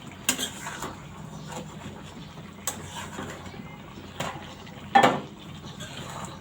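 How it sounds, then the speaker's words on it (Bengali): Stirring a small-fish curry in a pot on a stove, a metal utensil scraping and knocking against the pot in a few sharp clinks and taps spaced across quiet, faint background noise. "এখন আমি তরকারিটা একটু নেড়ে দিব"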